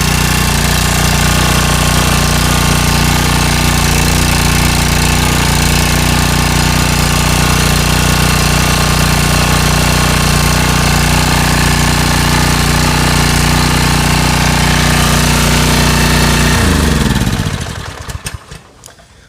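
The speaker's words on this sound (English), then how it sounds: "it's working perfectly fine. This is a Subaru engine that's on here" A small Subaru engine runs loud and close with a steady rapid chugging idle, then is shut off and sputters to a stop near the end.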